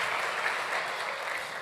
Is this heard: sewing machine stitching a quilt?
no